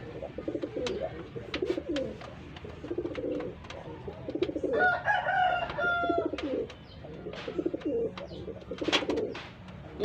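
A pair of domestic pigeons coo in repeated low, throaty phrases at close range, with scattered clicks and a brief higher call mixed in.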